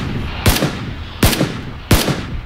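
Gunfire in the battle royale game PUBG: three loud, sharp shots spaced under a second apart, each with a brief echoing tail, over low background noise and no talking.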